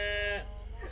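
Jersey cattle lowing on a grazing farm, one sustained low moo up close that ends abruptly, followed by faint outdoor background.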